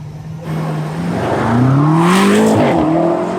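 A BMW M8 engine drones and rises in pitch as the car accelerates, the loud close tone climbing steadily with a brief dip near the end, heard from inside or close by with no voices.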